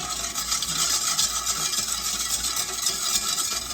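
Sugar being stirred into a batch of ginger pickles, a steady soft scraping and swishing that runs continuously at close range with no talk.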